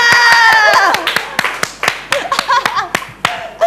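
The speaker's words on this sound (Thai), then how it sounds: "อาจารย ์ปรบมือ" Hands clap in a quick series of sharp, close claps, loud at first under a sustained voice and then continuing alone in uneven bursts, during a Thai celebrity talk show.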